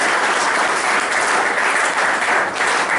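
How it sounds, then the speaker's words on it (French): An audience claps at a formal gathering with dense, steady applause that stays loud and even throughout, with no voices standing out. "On peut encore l'applaudir s'il vous plaît."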